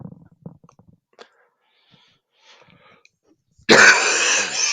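A person clears their throat and coughs during an energy healing session, with a few faint soft sounds and breaths first, then a loud, close, rough burst of throat clearing near the end.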